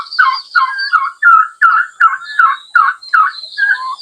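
Two released mother hens cluck loudly and close by in a steady run of about eight repeated, slightly tonal calls, with no talk over them.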